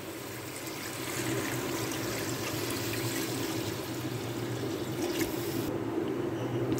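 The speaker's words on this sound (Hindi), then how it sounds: "अब मैं इसमें पानी मिला दूंगी।" Water pours and trickles into a sizzling pot of fried beef and masala for nihari, a steady rushing liquid sound over the cooking hiss, no voices.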